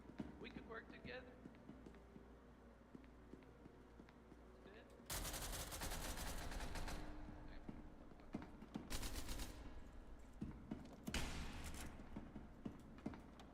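Gunshots in a multiplayer shooter game, where revolvers are in use: a quiet stretch with faint sounds, then several loud bursts of rapid gunfire separated by short pauses.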